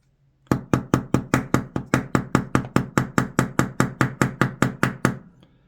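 Sharp hard knocks strike the spine of a folding knife, about twenty evenly spaced whacks in a quick steady rhythm, loud and close, each ringing briefly before the next.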